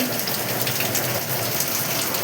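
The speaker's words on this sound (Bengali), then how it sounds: "দেখুন গাইস কত জোর বৃষ্টি নেমেছে দেখুন।" Heavy rain pours down outdoors in a steady, dense, loud hiss that continues unbroken throughout, with no voices.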